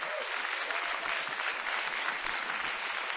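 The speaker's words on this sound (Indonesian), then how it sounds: "Tepuk tangan untuk bangsa Indonesia." Dense, steady applause from a large crowd at the Indonesian presidential inauguration of Jokowi, a continuous wash of clapping that fills the whole moment with no pauses.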